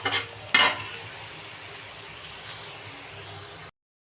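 Vegetables frying in a hot pan give off a steady, close sizzle, with a couple of sharp stirring scrapes at the start before the sound cuts off abruptly.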